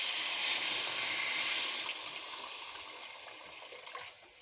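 Water poured into a pan of potato and egg curry after the spices have been fried, a steady hissing splash that is loudest at first and gradually eases off, with no voices.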